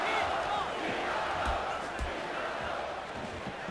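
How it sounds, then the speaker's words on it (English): A steady roar of an arena crowd cheering in the UFC Undisputed 3 video game during a Junior Dos Santos fight, a dense wash of noise that holds loud and unbroken, with a few dull thumps underneath. "And the crowd continues to rally behind Junior Dos Santos"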